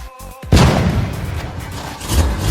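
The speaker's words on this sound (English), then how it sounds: "Today we're gonna light up fireworks with my friends in the forest." Fireworks go off in a forest: a sharp loud boom rings out after a brief quiet start and leaves a long rumbling echo rolling through the trees.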